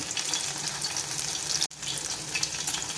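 Sardines (mathi fish) coated in masala frying on a hot pan, a steady close sizzle and crackle of oil throughout with one brief dropout partway, no voices.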